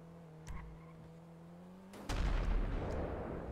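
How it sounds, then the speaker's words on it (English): A video game explosion in a GTA roleplay server bursts in suddenly with a loud, broad boom and rumbling decay that lingers, following a low steady engine hum. "Yeah, that meant an explosion."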